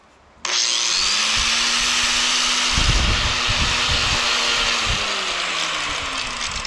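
An electric grinder running off a tractor battery and inverter boosted by a solar panel switches on with a steady high whine, then bites into material with a rougher grinding rasp for a couple of seconds before settling back to a loud, even hum.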